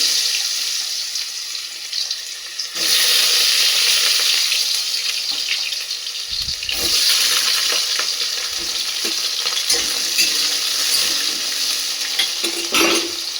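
Potatoes go into hot oil in a pan for a posto dish with banana and drumstick, setting off a loud sudden sizzle that continues as a steady crackling hiss, with stirring and no talking.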